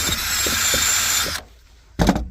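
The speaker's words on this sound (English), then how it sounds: "So I'm just gonna sand the metal right here." Metal being sanded inside a 2025 Toyota Camry during a JBL amplifier install: a steady, loud abrasive power-tool whir runs continuously, stops abruptly, then a brief burst resumes.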